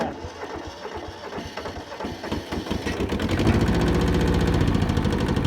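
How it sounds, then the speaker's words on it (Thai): An old Japanese Kubota tractor with some rust and a slack, unadjusted belt cranks over with uneven knocking, then catches and settles into a loud, steady, rapid diesel chug close by. "เอาติดเครื่องครับ เอาหัวนิดนึงดิดกุญแจ"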